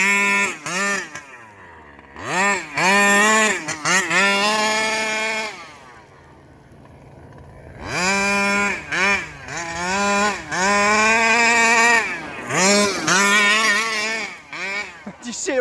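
Small petrol engine of a Rovan 5B RC car fitted with a new carburetor and a 10K clutch, revving hard in repeated rising, high-pitched wails with brief idle gaps, loud and close.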